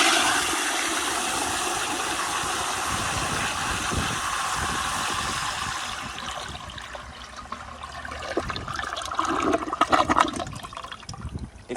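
A 1998 American Standard Spacesaver Cadet toilet on a flushometer valve flushes with a loud, sustained rush of water, then tapers into gurgling and swirling as the bowl drains, up close.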